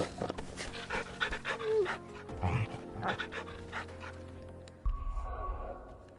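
Torgal, the dog companion in Final Fantasy XVI, pants steadily and loudly nearby against a low background hum, with a soft whimper partway through.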